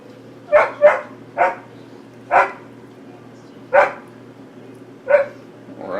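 A dog barks in short single and double bursts, about seven barks spaced irregularly over six seconds, moderately close against a quiet kitchen background with a low steady hum.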